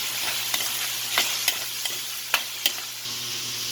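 Carrots frying in a pan with a steady sizzle, while a spoon stirs through them and gives several sharp scrapes and clicks against the pan, close and fairly loud.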